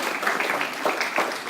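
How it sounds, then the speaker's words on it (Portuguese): Applause for a theatre group: a brief, dense burst of many hands clapping together, steady and fairly loud throughout. "Uma salva de palmas para os nossos grupos teatral"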